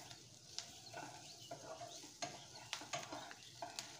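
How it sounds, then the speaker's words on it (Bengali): Chopped onion sizzles softly in oil in a pan while a spoon or spatula stirs it, scraping and tapping at irregular intervals over a steady frying hiss, quiet and close. "কাটা পেঁয়াজ একটুখানি ফ্রাই করে নেব, যতক্ষণ না পর্যন্ত পেঁয়াজটা একটুখানি গোল্ডেন হয়ে যায়"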